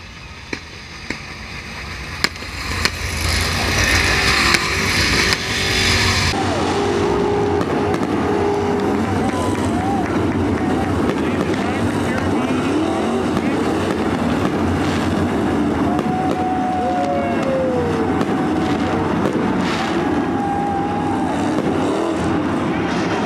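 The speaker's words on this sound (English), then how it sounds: "The wave lap for the ground pounding, wheel hiking. Late models here at Attica Raceway Park" Late model race cars roar around Attica Raceway Park on the wave lap, a loud, sustained, rumbling engine drone with passing cars swelling and fading and a few sharp pops early on.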